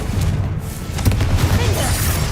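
A Confringo spell blast from the Hogwarts Legacy video game: a low, rumbling boom that swells and holds steady for about two seconds, dense and loud.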